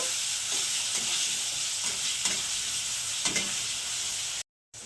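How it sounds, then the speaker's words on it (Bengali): Potatoes fry in oil tempered with mustard seeds, sizzling steadily with a soft crackle and a few stirring scrapes of the pan, close and continuous with no talk. "তো আলুগুলোকে একটু ভেজে নেব"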